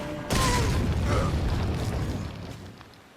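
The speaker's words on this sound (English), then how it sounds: "we have explosion traps" An explosion trap goes off in the video game Resident Evil 4: a sudden loud boom bursts in after a brief quiet moment, then rumbles and slowly fades over the next few seconds.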